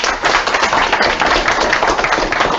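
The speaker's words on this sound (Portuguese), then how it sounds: "Salve de palmas." An audience at the end of an academic lecture breaks into dense applause, a close, steady patter of many hands for a couple of seconds with no talking.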